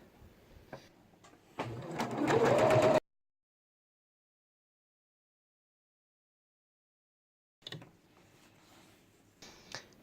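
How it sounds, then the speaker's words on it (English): A domestic sewing machine runs a 3-step zigzag stitch on fold over elastic, a quick rattling burst of about a second and a half, close and moderately loud, then silence and a few faint handling clicks. "I'm using a 3-step zigzag, not too wide."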